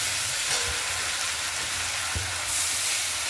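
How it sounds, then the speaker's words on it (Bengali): Mustard-poppy paste being stirred in a frying pan, giving a steady broadband sizzle with a few soft scraping strokes throughout, close and even. "তারপরে ভালো করে নেড়ে চেড়ে নিতে হবে।"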